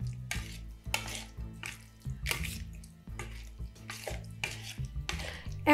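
Chicken breast being mixed by hand with a spice marinade in a bowl, a run of wet squelching and slapping strokes in an uneven rhythm, close and fairly quiet.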